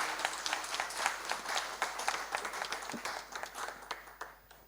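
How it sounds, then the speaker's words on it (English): Applause breaks out for a speaker at a women in financial markets conference, many hands clapping steadily at a moderate distance before gradually thinning out. "A round of applause for Manyara."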